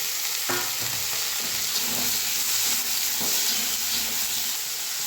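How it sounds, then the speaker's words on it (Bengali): Potatoes and pumpkin fry with onion in a pan, giving a steady close sizzle with a few scraping stirs from a utensil throughout. "অল্প আলু দিয়ে দিলাম"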